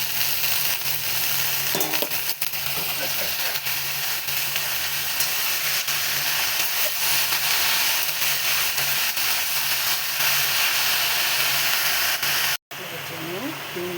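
Potatoes dropped into a hot pan in a Nepali home kitchen sizzle and hiss steadily and loudly throughout, with occasional stirring scrapes and a brief cut near the end.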